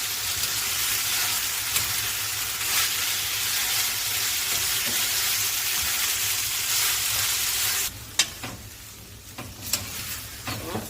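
Chakalaka simmers in a pan with a loud, steady sizzle that fills most of the stretch, then eases to a quieter bubble broken by a few close scrapes and clinks of stirring.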